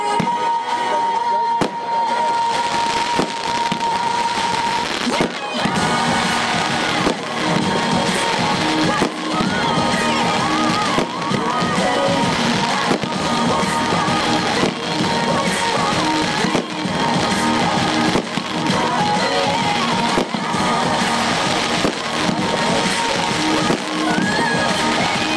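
A Prestige Escort 30 mm F2 firework battery fires a rapid sequence of loud shots and crackling bursts for about 25 seconds, with faint crowd noise underneath.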